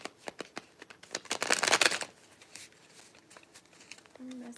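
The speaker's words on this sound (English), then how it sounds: "where did I shuffle these cards?" Tarot cards shuffled by hand during a reading: a quick run of crisp, papery riffles and taps building to a dense burst of flutter, then scattered soft card slaps, close and fairly quiet, with a brief voiced sound at the end.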